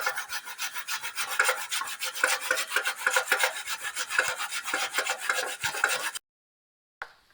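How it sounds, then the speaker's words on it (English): Cleaned, peeled carrots rubbed against a kitchen grater in fast, even rasping strokes for about six seconds, close and fairly loud, then silence with one last brief scrape. "So we are going to grate our carrots."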